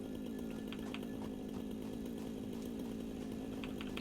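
A chainsaw in the video game Satisfactory cuts through rocks, giving a steady, loud buzzing drone with faint intermittent clicks over four seconds.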